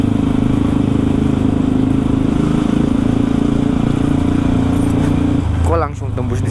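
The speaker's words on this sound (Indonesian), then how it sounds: "Motor berisik." A Yamaha WR155R motorcycle engine drones steadily and loudly while riding through a narrow alley, then the sound dips near the end as a voice speaks.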